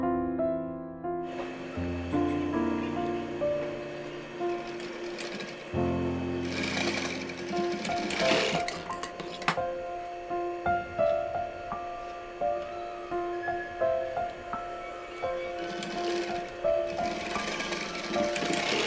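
A sewing machine runs in bursts as it stitches both sides of a zip pouch bag, a rapid close mechanical whirring and clatter that stops and restarts, with faint background music and no speech.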